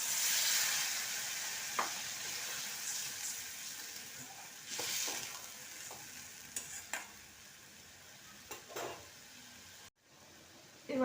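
Ground spice paste frying in hot oil for green chili katla fish, a continuous close sizzle with intermittent stirring scrapes and clinks of a spatula in the pan, briefly cut near the end.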